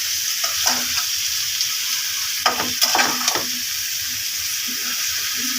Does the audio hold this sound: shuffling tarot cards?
no